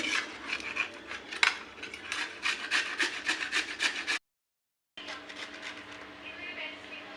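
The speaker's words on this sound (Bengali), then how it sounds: "বিটরুটটা ঘষি" Beetroot grated by hand produces rapid rhythmic rasping scrapes, close and fairly quiet, breaking off briefly into silence before more rubbing strokes resume.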